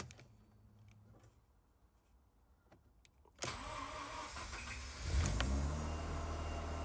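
A Mazda RX8 rotary engine cranks and fires after quiet handling noise, then settles into a steady, loud idle that rises slightly in intensity near the end, with no talking.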